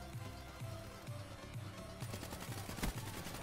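Turret fire in Black Ops 3 multiplayer: rapid repeated gunshots in a steady rhythm, close and loud, with a heavier burst of shots toward the end amid game noise.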